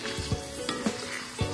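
Shrimp paste (terasi) frying in a pan for sambal, a steady close sizzle with a few soft stirring knocks, no voices.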